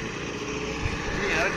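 A motor vehicle's engine drones steadily on a mountain road in the Spiti valley, a continuous mid-level hum rising slightly toward the end as it approaches, with voices talking over it.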